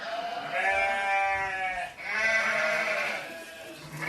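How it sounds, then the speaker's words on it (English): Recorded sheep in a field bleat in two long, wavering calls, one after another, fairly loud and close, with a short dip between them and no talk. "I am going to play you the sound of some sheep that I have recorded earlier on in the field next to my house"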